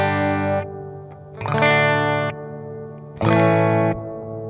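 A guitar runs through the dark Ocean reverb on a Sonicake Pocketmaster, with three loud sustained chords, each ringing out into a murky, washy tail with gaps between them.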